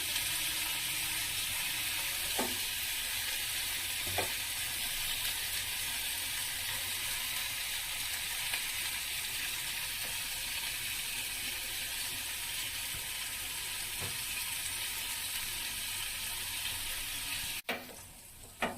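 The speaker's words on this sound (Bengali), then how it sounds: "পেঁয়াজটা নাড়তে থাকবো যতক্ষণ না ব্রাউন কালার আসছে" Chopped onions sizzle steadily in hot oil in a pan while being stirred until brown, a constant close frying hiss broken by a few soft spatula taps, with no voices.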